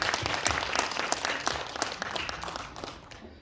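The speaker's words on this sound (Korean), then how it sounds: "우리 뜨겁게 박수를 하나 모시겠습니다." Warm applause from a congregation at a Christian culture and arts festival, brisk clapping heard fairly faintly that gradually thins out over a few seconds.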